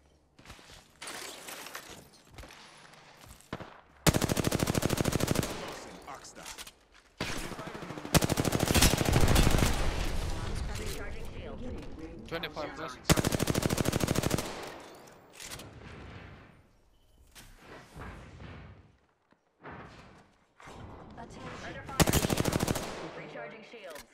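Video game gunfire crackles in repeated loud bursts, some sustained like automatic weapons, with quieter gaps between volleys and a voice speaking briefly at times.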